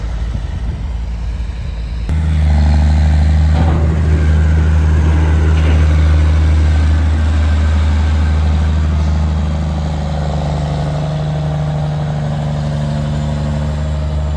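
A John Deere 20 series farm tractor's diesel engine starts up and then runs at a steady, loud low rumble close by, without any talking.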